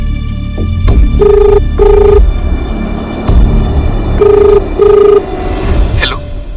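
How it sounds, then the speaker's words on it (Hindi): A phone call ringing back in a Crime Patrol television drama, repeated paired electronic ring tones in a steady pattern over a low hum. "एक बार मयूर को फोन कीजिए ना।"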